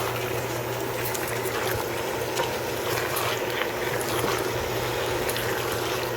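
Potatoes and chayote cooking in a pot, stirred with rapid scraping, clicking and rattling against the pot over a continuous sizzling, bubbling hiss, close and fairly loud.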